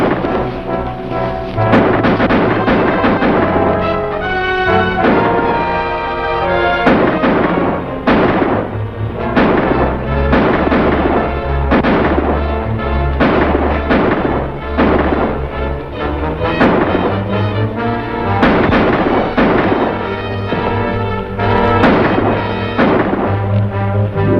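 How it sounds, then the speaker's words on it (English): Shootout in a 1950 classic western film: repeated sharp gunshots at irregular intervals, mixed under a loud, continuous orchestral score. "Stay here and keep shooting."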